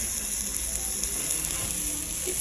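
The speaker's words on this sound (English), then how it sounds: "There's my steak cooking away." Steak sizzling on a hot plate at a cruise-ship grill, a steady close frying hiss running through without pause.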